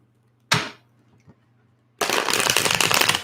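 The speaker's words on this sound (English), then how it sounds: "putting your energy into these cards that I am shuffling in" Tarot cards are shuffled by hand in two bursts: a short riffle near the start, a quiet pause, then a longer, louder flurry of cards at close range, with no voices.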